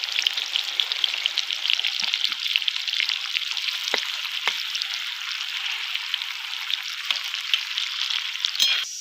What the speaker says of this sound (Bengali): দিয়ে এবার হালকা আঁচে আস্তে আস্তে করে পেঁয়াজটা ভেজে নেব।